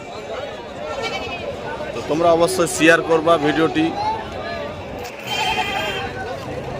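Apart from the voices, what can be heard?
sheep bleating at a village market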